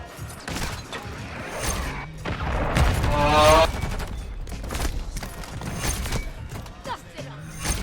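Rapid automatic gunfire from the shooter Call of Duty: Modern Warfare III rattles almost continuously in close, loud bursts, with a voice talking over it.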